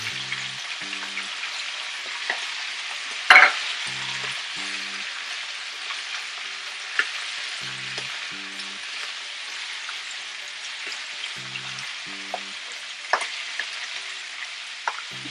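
Onions fry with goat meat in a pan, a constant broad sizzling hiss with a sharp clatter near the start and a few light knocks, while a faint low rhythmic sound pulses quietly beneath.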